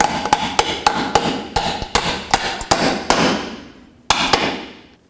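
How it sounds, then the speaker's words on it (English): A dozen or so sharp metallic hammer blows drive a bolt into a control arm on a 2004-2008 Acura TL in an uneven rhythm, close and loud, ringing briefly after each strike, with a pause before a final hit. "I'm going to drive it in with my hammer."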